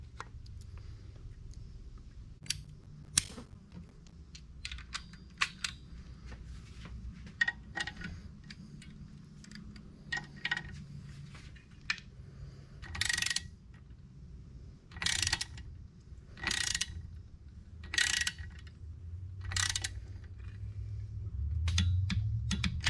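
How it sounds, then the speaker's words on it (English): Ratchet wrench torquing down clutch bolts on a VW Beetle, a series of sharp, irregular clicks and short ratcheting bursts that grow denser near the end over a low background hum. "now we're going to torque it down"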